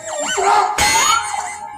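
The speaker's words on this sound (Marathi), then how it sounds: "भुंकून गेला माझ्या कानामध्ये" A dog barks and howls close by in a stage comedy sketch, a couple of loud yelping, wavering calls with a sharp burst in the middle.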